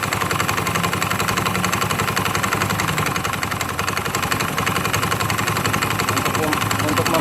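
A motorcycle engine running rough and rattling: a dense, continuous clattering drone at steady loudness, with someone talking over it.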